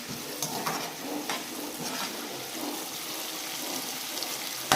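Chicken frying in oil for biryani, a soft continuous sizzle close by with faint stirring clatter, fairly quiet throughout and ending in a brief knock.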